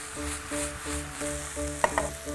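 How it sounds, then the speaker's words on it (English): Ingredients for Thai chicken lettuce wraps sauteing in a pan until soft, giving a steady soft sizzle under a stepped tonal backdrop, with a couple of brief sharp clinks near the end. "I'm just going to saute these until they're soft."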